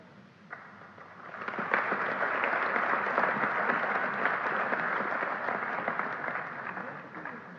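An audience bursts into applause after a short isolated clap, swelling into sustained, dense clapping that holds loud and steady for several seconds, heard from within the hall.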